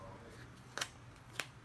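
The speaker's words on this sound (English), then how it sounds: "Take a pair of scissors," Scissors snip through a paper sandal template in two short, crisp cuts close by, spaced apart against a quiet background.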